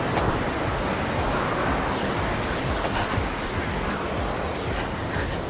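Ocean waves wash close to shore in a steady, broad roar, with wind noise on the microphone and no clear voices.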